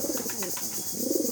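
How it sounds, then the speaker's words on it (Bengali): Shirazi pigeons in a coop give soft, low cooing that repeats through a steady background hiss, close and fairly quiet. "এটা হচ্ছে সিরাজি কবুতর, দুইটা বাচ্চা দিছে।"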